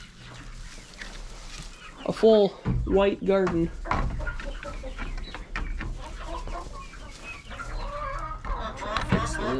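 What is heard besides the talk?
hens clucking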